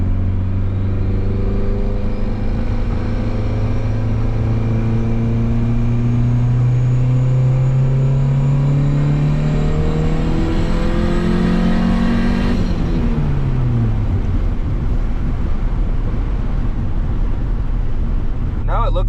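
A turbocharged Honda Civic engine revs up under boost in one long pull, its drone climbing steadily in pitch before easing off, heard loud from inside the car with a voice talking over it.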